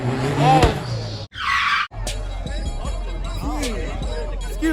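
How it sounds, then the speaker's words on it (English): A car revving on a two-step launch limiter during a burnout at a car meet, choppy stuttering engine bursts with a short tire squeal, heard near amid crowd chatter and excited voices. "That was a crazy two-step right there"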